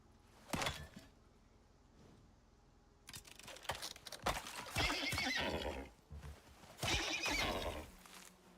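Horse in a survival video game whinnies and neighs in several loud bursts, with clip-clopping hooves and shuffling between calls, close and clear with no talk.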